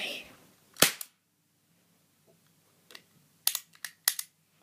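A toy cap gun fires several sharp, loud cracks: one pop early on, then a quick cluster of three or four snaps near the end, separated by near-silence with faint handling noise.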